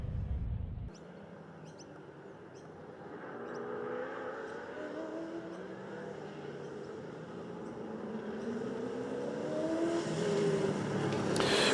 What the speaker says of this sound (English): the historic touring cars brought to us by Photography Group, and these cars making their way around